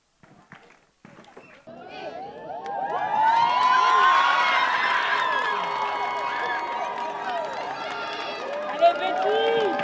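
A crowd at the Miss Salouva 2019 beauty pageant erupts after a short quiet moment, swelling into loud, sustained cheering, whooping and shouts that hold steady to the end.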